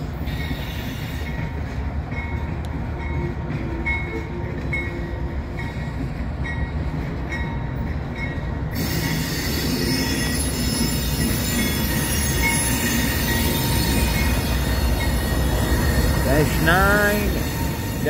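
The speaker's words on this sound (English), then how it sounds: "Ferromax is the third loco on this southbound." A southbound freight train passes at Hobson Yard in Lincoln, Nebraska, with Ferromax SD70 locomotives in the consist, a loud continuous rolling rumble with clanking wagons and sharp wheel squeals rising near the end.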